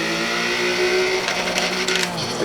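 Subcompact race car engine lapping Road Atlanta in a racing game, holding a steady high droning whine, then shifting pitch and roughening with brief tyre scrubbing as it works through a corner, loud and close throughout.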